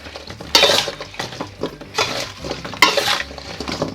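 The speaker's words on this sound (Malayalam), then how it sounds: "അല്പം ഓയിലൂടെ ചേർത്ത് നന്നായിട്ടൊന്ന് മിക്സ് ചെയ്യുന്നത്" Spice powders being mixed with oil in a bowl for vegetable biryani, with repeated close scraping and clinking of a spoon in bursts, no voices.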